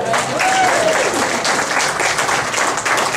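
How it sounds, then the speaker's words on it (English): A church audience breaks into sustained applause, a dense wash of clapping that stays steady for a few seconds. "that's a round of applause all by itself"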